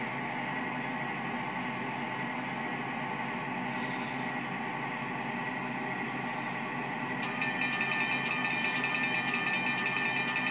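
A railroad crossing signal sounds at a tram line crossing: a steady electronic tone that runs throughout, joined after about seven seconds by a faster, brighter ringing layer, with no talk.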